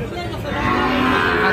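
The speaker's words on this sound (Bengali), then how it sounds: "এটা একটা ক্রসের বকনা বাছুর" A crossbred heifer calf moos loudly and close up at a cattle market, one drawn-out call over background crowd chatter.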